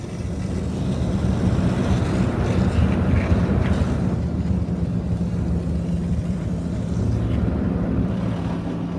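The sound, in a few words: high power rinse pass at Istobal MNEX 22 car wash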